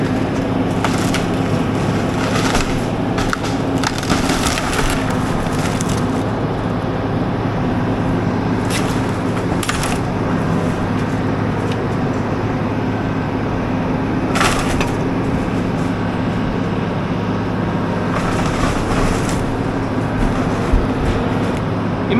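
Wooden side wall of a beach house under controlled demolition, with continuous heavy crushing, splintering and cracking of wood over a steady machine rumble, loud and close throughout.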